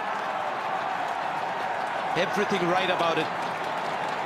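Cricket crowd at a 2011 World Cup match between India and Bangladesh in Bangladesh, applauding and cheering a good shot, with a brief swell of clapping under steady commentary and constant stadium crowd noise.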